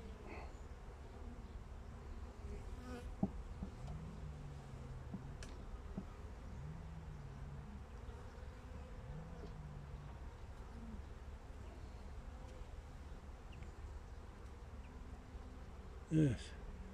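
Honey bees buzz faintly around a beehive in a quiet, steady hum, with a few louder passes of individual bees drifting by close up and a brief knock near the end.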